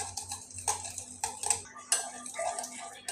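A spoon clinks and scrapes against a bowl in quick irregular strokes while potato chop mixture is mixed with milk and flour, close and fairly quiet.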